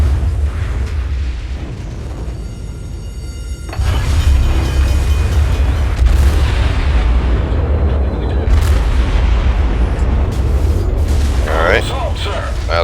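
Naval gunfire from warships in the World of Warships game: heavy booming blasts and rumbling explosions layered over a constant low battle roar, loud and continuous with a brief lull early on.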